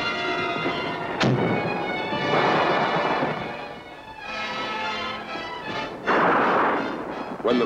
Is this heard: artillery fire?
yes